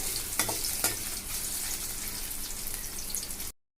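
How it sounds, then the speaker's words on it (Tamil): Ginger sautéing in hot oil gives a dense, continuous crackling sizzle up close, with a few sharper stirring clinks near the start before it cuts off abruptly. "இப்போ இஞ்சி சேர்த்துக்கலாம். இஞ்சி நல்லா வதக்கி விட்டுக்கலாங்க."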